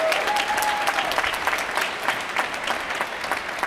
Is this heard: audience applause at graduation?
yes